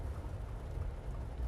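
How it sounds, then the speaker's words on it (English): Steady rain, a continuous low rumbling hiss with no distinct drops, even and unbroken, no voices. "Getting some good rain."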